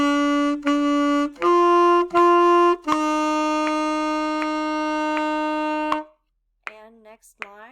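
An alto saxophone plays a three-note rumba exercise at a slow tempo, each note tongued cleanly with sustained, bright tones in a clear rhythmic pattern, followed by a short spoken count.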